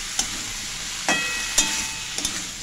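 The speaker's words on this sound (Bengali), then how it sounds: "এরপর সব উপকরণগুলো খুব ভালো করে আমি ভেজে নেব।" Fish head and potato fry with salt and turmeric in a pan, a steady close sizzle broken by several scraping strokes of a spatula.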